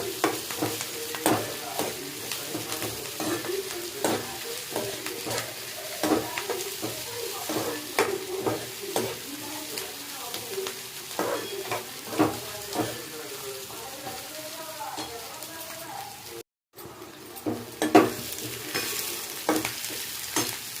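Tempering spices sizzle in a pan for semiya upma, a steady close frying hiss broken by repeated scraping stirs, with a brief moment of silence near the end before the sizzling resumes.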